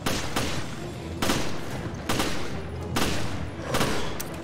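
Gunfire in the video game Resident Evil Revelations comes as loud, repeated bursts of shots about once a second over a dense, continuous game backdrop.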